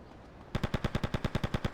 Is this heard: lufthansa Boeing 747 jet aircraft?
no